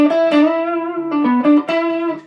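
An electric guitar played through an Ibanez TS7 Tone-Lok Tube Screamer overdrive pedal with the drive turned up, giving a few loud, sustained distorted notes with sharp attacks, alone with no talking.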